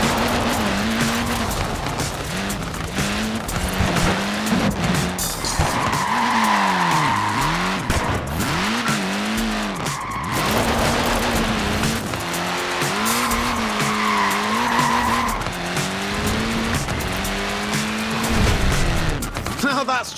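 Small tyres on a Mini squeal and skid in Forza Horizon 4, with a loud revving engine rising and falling through repeated slides and a continuous screech of rubber.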